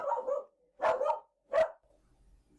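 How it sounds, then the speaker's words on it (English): A dog barks outdoors on a windy autumn day, three separate woofs spaced about half a second apart, moderately close and fairly loud with quiet gaps between, no talking over them. "So I was going to cut out the dog bark"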